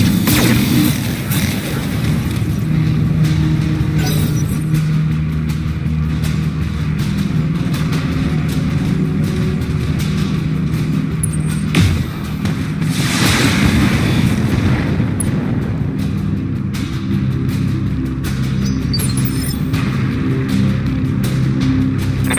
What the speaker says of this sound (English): Firing. Full complement on enemy.